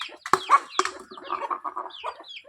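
Chickens near a chick cluck in a quick run of sharp, close calls, loud at first and then a softer, rapid series of clucks across a quiet yard.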